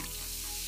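Chilsung Cider soda fizzing over ice in a glass gives a brief, bright carbonated hiss and crackle, close and continuous for under a second.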